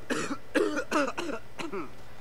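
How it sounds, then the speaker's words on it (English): In the video game Hitman Absolution, on the Rosewood level, a man coughs hard in a series of about five rough, hacking bursts, fairly close and clear against a low background hum. "Oh wow, he's got a really bad cough."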